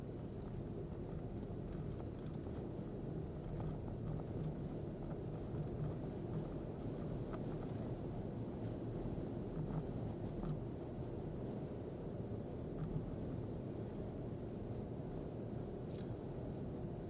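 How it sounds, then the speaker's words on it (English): Strong wind buffeting a car on a coastal drive along the Chain of Craters road in Hawaii Volcanoes National Park, a continuous low roaring rumble that stays steady for the whole stretch with no voices. "Tell how windy it is."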